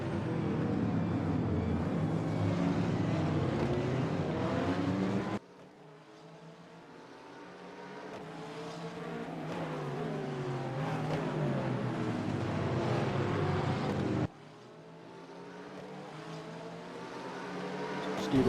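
GT3 race cars, a McLaren leading and a Corvette behind, race around the Singapore Marina Bay street circuit in a sim racing game. Loud, steady engine drone runs throughout, with abrupt cuts as the perspective changes.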